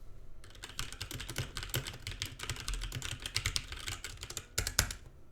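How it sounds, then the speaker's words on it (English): Steady typing on a computer keyboard picked up by a Razer Seiren Mini microphone, a fast, continuous patter of clicky keystrokes heard up close with no talking. "Here's what it sounds like typing on the keyboard."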